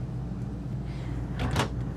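A soft-close drawer in a 2024 Renegade Valencia 38BB RV glides shut with a short muffled slide and soft bump over a steady low hum.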